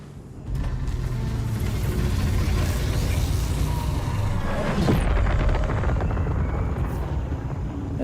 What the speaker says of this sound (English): That's the sound of the Shiv.